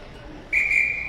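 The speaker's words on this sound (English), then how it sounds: "Another blow of the whistle." A hockey referee's whistle sounds one loud, sustained, piercing blast that starts abruptly midway. Faint arena crowd noise hums underneath.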